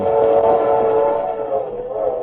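A train sound effect in a radio drama plays alone: a steady, loud rolling rumble with a sustained whistle-like tone.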